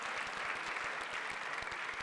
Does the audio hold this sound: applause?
yes